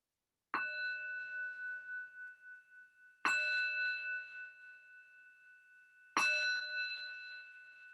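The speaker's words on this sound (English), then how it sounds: "ending the practice when you can no longer hear the sound of the bell" A meditation bell is struck three times at even intervals, each bright, ringing tone lingering and slowly fading before the next strike.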